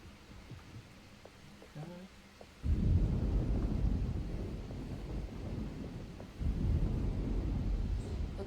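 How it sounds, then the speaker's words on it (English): Thunderstorm in the video game Alone in the Dark: quiet ambience breaks into a loud, sustained roll of thunder and rain-heavy rumble near three seconds, then a second swell of rumbling thunder near six seconds. "Looks like a storm's coming."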